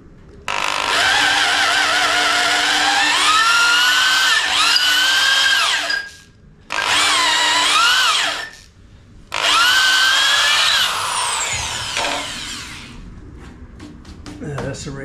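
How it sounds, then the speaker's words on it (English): A power drill whines loudly while boring holes in wood, in three long bursts separated by short pauses, the motor pitch rising and falling as it bites, ending with some lighter clicks and handling noise. "now I'm in the mood for drilling holes"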